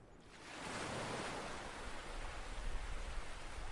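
Ocean surf washing onto a sandy shore, a steady broadband roar that swells within the first half second and then holds evenly at a close, full level, with no voices.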